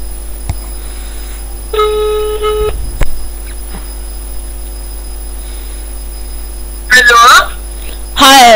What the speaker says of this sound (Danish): Jeg ringer lige til en.